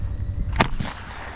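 A single sharp shotgun blast fired at a clay target outdoors, one loud crack that rings out briefly over low background noise.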